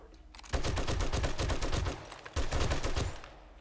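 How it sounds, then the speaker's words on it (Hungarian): Rapid automatic gunfire in the zombie survival video game 7 Days To Die, two loud sustained bursts of fast repeated shots separated by a short pause. "Meghallják ezt a lövöldözést."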